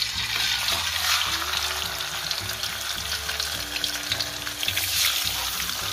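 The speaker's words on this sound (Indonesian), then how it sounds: "Kita nak goreng ikan terbakar yang kita letak garam dengan kunyit ni." Fish marinated with salt and turmeric frying in hot oil, a loud, steady sizzle and crackle running throughout at close range, with occasional stirring clinks and no talking.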